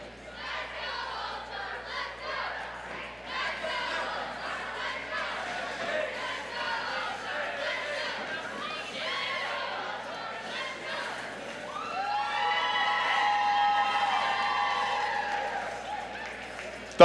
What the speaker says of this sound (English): they definitely brought their cheering section today